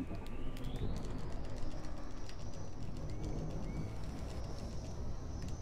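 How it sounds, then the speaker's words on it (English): Seagull-like bird calls in the EXO ONE video game on an alien planet, faint cries repeating over steady rushing wind and wave noise, with a soft rising tone threading through. "There's seagulls on this planet?"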